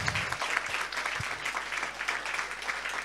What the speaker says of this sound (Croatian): može jedan ogroman aplauz za Plidentu